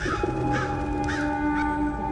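Crows caw repeatedly at a steady pace, close and loud, over a constant background hum with a few faint tonal lines.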